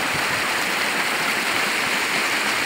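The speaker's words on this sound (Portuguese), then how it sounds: "Essa é a água que tá descendo." Rushing runoff water pours steadily downhill after an extratropical cyclone in a highland sugarcane area, a loud continuous roar close by with no pauses and no talking.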